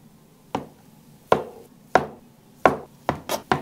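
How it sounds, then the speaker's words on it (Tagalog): A new kitchen knife cuts meatloaf into small cubes on a chopping board, six or seven sharp close knocks, spaced unevenly at first and then coming quicker. "Hihiwain ko na yung meatloaf into cubes."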